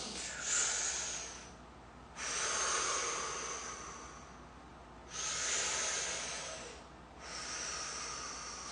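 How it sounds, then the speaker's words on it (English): A person breathes in and out through the mouth during a stress relief session, with four slow, close, airy breaths alternating in even rhythm. "first I'm going to go back and forth and breathe in my mouth."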